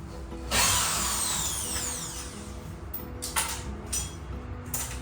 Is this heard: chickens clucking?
no